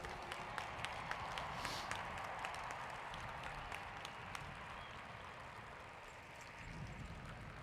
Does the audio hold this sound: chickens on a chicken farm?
no